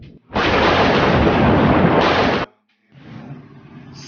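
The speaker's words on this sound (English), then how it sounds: "A sound from a thunder" A loud, close crash of thunder rolls as a dense two-second rumble, cuts off abruptly, and after a brief silence a softer rumbling resumes.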